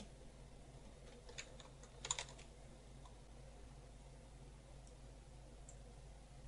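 Typing on a computer keyboard, a sparse run of light, quiet key clicks with a brief cluster of taps, faint over a low steady hum, no talk.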